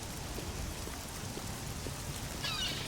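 Rain falls in Oblivion's outdoor world, a continuous soft patter that stays level and unbroken throughout, with no speech over it.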